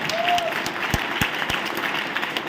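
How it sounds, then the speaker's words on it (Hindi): Applause for a host at a live gathering, a steady wash of many hands clapping with a few sharper individual claps standing out, filling the whole moment at moderate loudness. "और आज के होस्ट कुंबा जी के लिए जोरदार ताली।"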